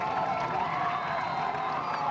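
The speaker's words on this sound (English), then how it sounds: "Crowd going nuts." Crowd at a high school football game between Haslett and DeWitt cheering and roaring steadily, a dense wash of voices and shouts filling the stands throughout.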